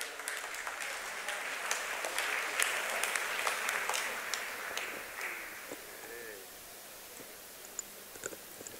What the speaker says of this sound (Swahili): Naomba waziri anapokuja kutoa hotuba yake tumpigie makofi mengi sana.